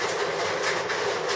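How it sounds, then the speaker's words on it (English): Steady rain hisses evenly, close and fairly loud, with no voices. "it just started raining now."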